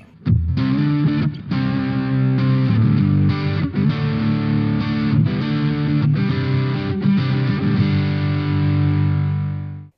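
Taylor T5z electric guitar played through heavy distortion, thick sustained chords with a few quick changes, loud and upfront, ringing out and fading at the end.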